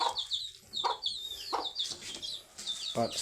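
A hen clucks near a house window in the Philippine countryside, with a run of short, close clucks and a few higher squawks across the whole stretch, and some faint background voices.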